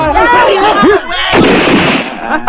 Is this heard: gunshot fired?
yes